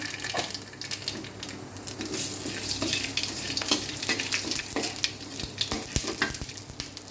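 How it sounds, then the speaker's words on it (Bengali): Two dried red chillies and nigella seeds sizzle and crackle in hot oil, a steady close frying hiss with frequent sharp pops and spits throughout, no talking over it. "ওই তেলের মধ্যে আমি দুটো কাঁচা শুকনো লঙ্কা আর কালো জিরা ফোড়ন দেবো"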